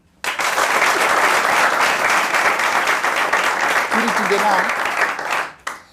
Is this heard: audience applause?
yes